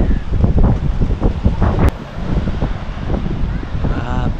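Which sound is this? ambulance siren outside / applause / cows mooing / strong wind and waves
strong wind and waves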